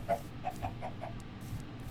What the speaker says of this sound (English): Lots of chickens over here.